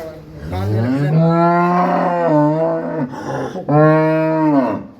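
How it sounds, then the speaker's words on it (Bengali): Holstein Friesian dairy cows low loudly and close by, one long drawn-out moo followed by a second after a brief pause, rich and resonant with a voice faintly audible in the background. "এগুলা দুধের গরু, অরিজিনাল দুধের গরু।"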